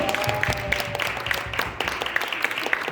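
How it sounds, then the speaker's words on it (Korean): An audience gives a short, lively round of applause, many hands clapping close by in a steady, fairly loud patter that holds level throughout. "다시 한번 뜨거운 박수 한번 해주시기 바랍니다"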